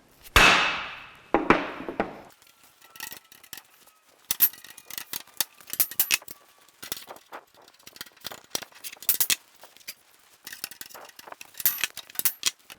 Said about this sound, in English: just get a piece of spare wood and hammer into position